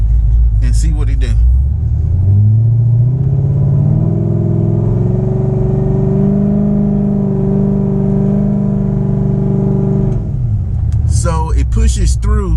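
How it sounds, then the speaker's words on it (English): A C6 Corvette with a Yank 3600 torque converter is power braked: the engine climbs from a deep idle rumble to a sustained high rev, holds it loud and close, then falls back, with talk at both ends. "We're gonna power brake this bad boy and see what it do."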